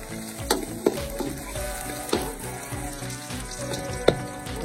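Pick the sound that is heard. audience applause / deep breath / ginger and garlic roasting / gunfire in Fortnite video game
ginger and garlic roasting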